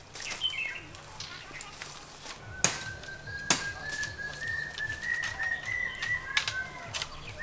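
Cuckoos call in a garden, with a long rising whistled note that stretches over several seconds, a few shorter chirps, and faint rustling and handling noises nearby.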